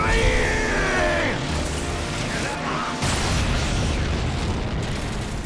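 A Limit Break special attack in Final Fantasy VII Rebirth unleashes loud, dense explosive blasts and rumbling bursts, with swooping effects and a fresh boom partway through, continuing without pause.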